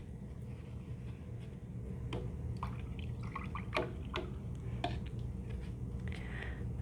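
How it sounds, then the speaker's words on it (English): A paintbrush being rinsed in a water cup, soft drips, splashes and swishes scattered over a quiet hiss, faint and close. "now I'll rinse that out"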